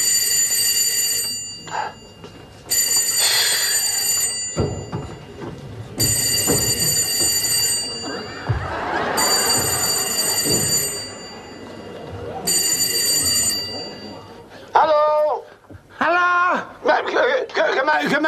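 An old telephone rings in repeated loud bursts with short pauses between them, while someone talks and moves about nearby, his voice overlapping the ringing.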